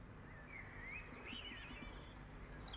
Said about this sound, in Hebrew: זה נשמע כמו מקהלה של בולבולים.